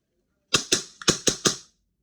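Five quick, sharp snaps from a WE G17 Gen5 airsoft pistol with TTI upgrades, fired in rapid succession close by, each crack followed by a short mechanical decay, with silence before and after.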